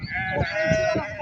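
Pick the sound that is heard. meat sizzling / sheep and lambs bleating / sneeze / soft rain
sheep and lambs bleating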